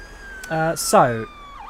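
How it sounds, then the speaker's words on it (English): An ambulance siren in the OMSI 2 London bus simulator game holds a thin, steady wail in the background while a voice speaks briefly over it. "Ambulance."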